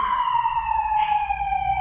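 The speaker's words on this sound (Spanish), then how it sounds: "vamos a dejar que pase la ambulancia." An ambulance siren wails steadily as the vehicle passes nearby, a loud sustained tone that dips slightly in pitch, over low street traffic rumble.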